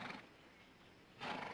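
Horse neighing at a western horse sale, a short whinny at the start and again louder near the end, with a quieter stretch of background noise between.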